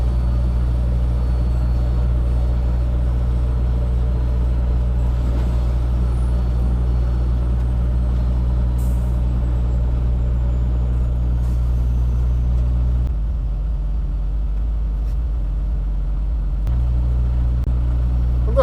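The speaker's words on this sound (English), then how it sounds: "puts his foot on the brake or something, and then the truck rolls forward and reverses what he does" A truck's engine rumbles steadily and close, dropping in tone for a few seconds near the end before resuming, with a brief hiss partway through.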